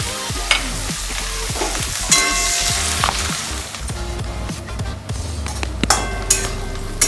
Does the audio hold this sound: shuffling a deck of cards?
no